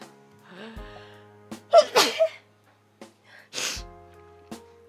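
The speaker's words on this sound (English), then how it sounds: "I gotta sneeze." A single loud sneeze with a sharp intake of breath, followed a moment later by a second smaller sneeze-like burst, otherwise quiet.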